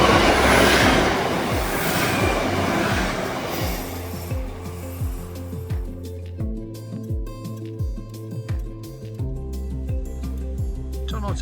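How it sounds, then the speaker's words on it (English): A train rumbles past on the West Highland Way in Scotland, its loud roar fading into a steady rhythmic clatter of wheels over rail joints, with a voice briefly speaking early on. "That's a train."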